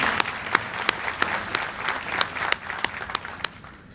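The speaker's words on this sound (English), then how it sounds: "let's give Alan a round of applause" Audience applause at an East Alabama FAME 2023 signing day ceremony for Alan Smith: a steady wash of many hands clapping from a sizeable crowd, with sharper individual claps standing out throughout, continuous and fairly distant.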